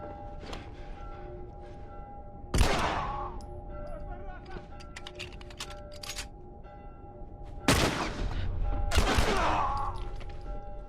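Bursts of gunfire crack out in The Last of Us game soundscape, with scattered shots, two loud blasts, and a faint tonal hum underneath.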